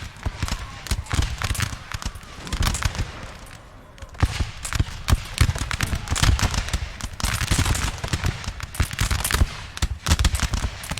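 Musket volleys in Napoleon: Total War, with French line infantry firing massed volleys in a multiplayer battle. Dense crackling rolls of gunfire overlap continuously, some shots near and loud and others farther off, over a steady battlefield din.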